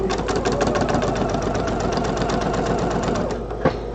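A sewing machine stitches a quilt block seam in a fast, even, continuous whir of close needle strokes, heard near and alone, stopping briefly near the end with a small click.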